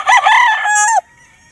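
A gray Pumpkin Sweater gamefowl broodcock lets out a single loud, close crow lasting about a second, the call rising and holding before cutting off sharply into quiet.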